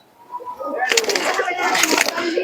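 Pigeons cooing and fluttering close by, a dense run of soft calls and wing flaps building over a couple of seconds, with faint voices in the background.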